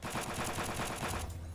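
A gun in the video game Sunkenland fires a fast, continuous automatic burst, loud and close, for over a second before it stops abruptly.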